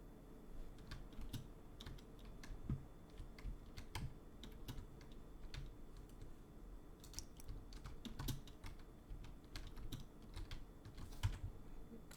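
Typing on a computer keyboard: soft, rapid, irregular key clicks fill the whole stretch at low level, with brief pauses between bursts.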